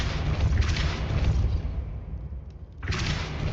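A Depulso force spell cast in Hogwarts Legacy, a dense low booming rumble that fills the first half, drops away briefly, then surges back loud near the end, with no talk over it.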